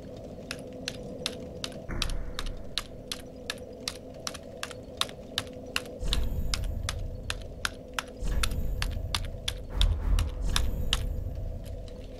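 Rapid, irregular clatter of computer keyboard keys being mashed, sharp clicks spread through the whole stretch over a low steady hum and rumble, with busier bursts toward the end while a Dark Souls 3 session runs.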